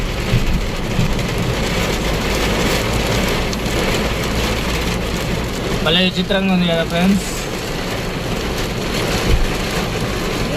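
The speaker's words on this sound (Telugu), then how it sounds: "ఇక్కడ చూడు, ముందుకు వచ్చే వర్షం పడుతుంది చూడండి ఫ్రెండ్స్." Steady rain pours down in a loud, unbroken hiss, with a voice speaking briefly partway through.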